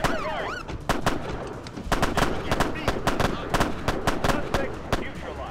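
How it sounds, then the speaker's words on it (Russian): Gunfire in the police strategy game Police Tactics: Imperio, a rapid run of sharp cracking shots in irregular bursts, loud and close over constant background game ambience, with pigeon-like cooing near the start. "Ничего себе, стрельба даже."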